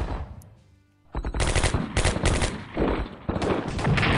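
Artillery opening fire on defenses in the WWII strategy game Strategic Command, a loud rolling barrage of rapid booms that begins after a quiet second and keeps going to the end.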